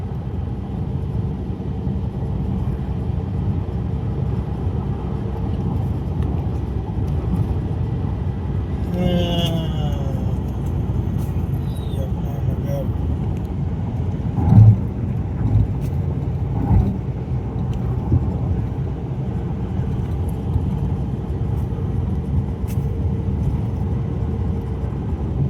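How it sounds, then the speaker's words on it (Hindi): A car drives along a highway toward Dehradun with the air conditioning on, giving a steady low road rumble and engine hum throughout, with a few faint bumps and a brief rising whine partway through. "और गाड़ी भागती हुई जा रही है"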